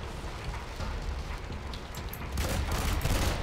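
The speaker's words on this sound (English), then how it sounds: "They are shooting, though." Enemy gunfire in the shooter video game F.E.A.R. 3 crackles as dense, continuous volleys, growing heavier toward the end, with no talking over it.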